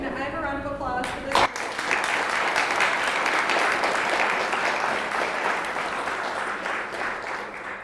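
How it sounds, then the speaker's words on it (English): An audience at a young-adult book festival event bursts into sustained applause right after a short spoken phrase, a thick, even roar of many hands clapping that holds steady for several seconds before easing slightly. "Can I have a round of applause for this?"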